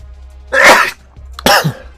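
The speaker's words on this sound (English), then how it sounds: "God, I'm trying not to sneeze." A person sneezes twice in quick succession, a loud, close, breathy burst followed by a second sharp one, with no talk.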